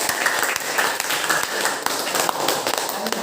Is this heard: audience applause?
yes